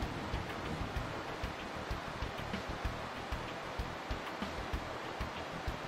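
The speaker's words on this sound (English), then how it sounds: "terrible rain. It feels as though the entire world will be washed away." Heavy rain in the video game Pokemon Alpha Sapphire makes a dense, constant hiss with faint steady patter, no voices.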